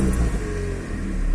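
Peugeot 206 engine catching and settling into a steady idle, a continuous low rumble close by, with no voices over it.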